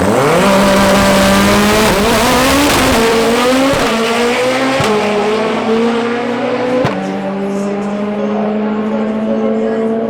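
A loud four-wheel-drive Golf Mk2 drag car with a Volvo T5 engine roars through its gears at Santa Pod, engine pitch climbing and dropping with sharp shifts, staying close and dominant throughout.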